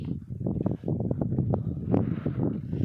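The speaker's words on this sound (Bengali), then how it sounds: "প্রচণ্ড হাওয়া দিচ্ছে, ঠান্ডা ওয়েদার।" Strong, cold wind roars against the microphone outdoors, a continuous low buffeting that surges and dips throughout.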